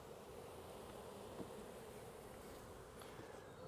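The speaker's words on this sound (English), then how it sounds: "the nuc box itself still has a lot of bees in it" A faint, continuous hum of many honey bees buzzing together inside a nucleus hive box, steady and muffled throughout.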